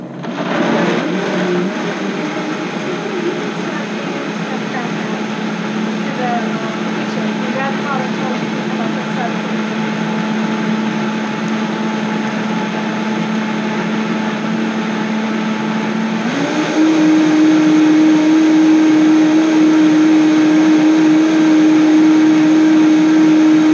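Blender running steadily on rinsed cashews, a loud continuous whirring drone that holds for about twenty seconds and rises slightly in pitch and loudness near the end, with no talking over it.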